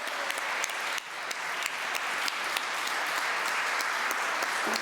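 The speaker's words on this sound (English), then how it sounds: "Oh yeah, clap." Audience applause at a church conference, a steady wash of many hands clapping throughout, fairly loud and continuous with no speech over it.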